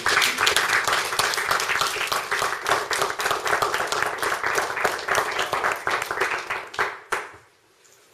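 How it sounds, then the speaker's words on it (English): A crowd at a talk on U.S.-Cuba relations bursts into sustained, loud applause, dense clapping filling the room for about seven seconds before cutting off abruptly. "So I say we need to applaud ourselves right now."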